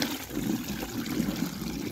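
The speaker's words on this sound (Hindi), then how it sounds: "गरम गरम पानी आया हुआ है अभी ट्यूबवेल से" Hot water gushes steadily from a farm tubewell, a continuous rushing and splashing flow that holds nearly constant, with no one speaking.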